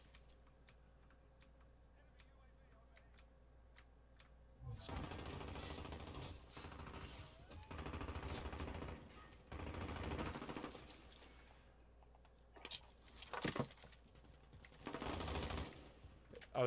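Video game shooter gunfire in rapid automatic bursts of sharp crackling shots, several separate volleys, mixed with fast keyboard clicking and brief quiet gaps.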